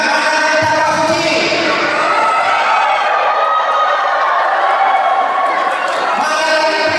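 Sustained applause and crowd noise fill a large hall at the opening ceremony of the IPSI South Sumatra Cup pencak silat championship, loud and continuous with a busy roar of voices throughout.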